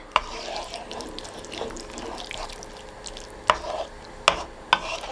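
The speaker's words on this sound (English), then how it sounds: "So we'll mix that all in together." Ragu sauce with red wine stock being stirred together in a pan, soft wet squelching and scraping with a few sharp clacks of the utensil against the pan near the end, no talk.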